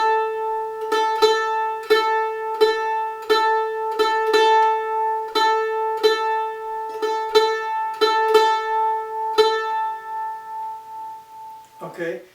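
Mandolin picks a tablature line of sharp, evenly spaced plucked notes with some dotted-rhythm spacing, played close and alone before fading at the end.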